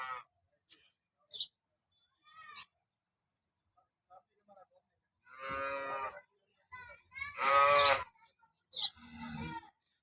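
Dairy cows in the Tharad area of Banaskantha, Gujarat, give several loud, close moos in a quiet setting, with short gaps and a few faint sounds between calls.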